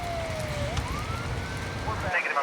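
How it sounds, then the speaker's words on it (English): A wailing emergency siren from first responders at a three-car accident sweeps down and then rises, loud and steady over a rumbling background. "the sounds of sirens and the flashing lights of first responders dominated the scene"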